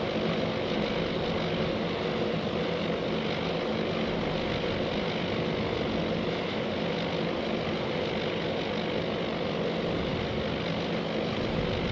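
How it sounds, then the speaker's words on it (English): Dive bomber propeller engines climbing away from a target in the Task Force Admiral naval war game, a steady broad drone holding at even loudness throughout with no talk. "The dive bombers regain altitude and egress the target area."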